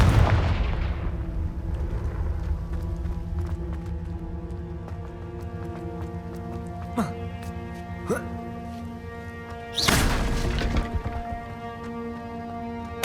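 A Confringo fire-blast spell in the Hogwarts Legacy video game lands as a heavy blast at the start and another loud burst near the end, with sustained tones ringing between them.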